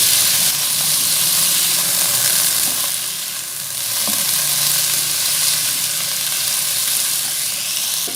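Ginger garlic paste fries in a pan for Irani-style mutton biryani, giving a steady, close sizzle and crackle throughout with a brief dip midway.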